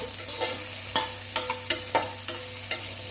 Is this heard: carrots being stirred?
yes